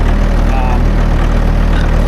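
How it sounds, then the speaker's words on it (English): A farm tractor idles steadily nearby during row-crop seeding work, a continuous low engine rumble with a regular throb, with faint talk under it. "I needed to come up with the tractor this time"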